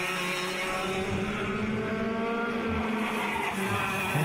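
Clubman heavy class racing karts accelerate around the Adelaide street circuit, a loud sustained buzzing engine drone with shifting harmonic pitch as several karts run close together, alone and with no voices.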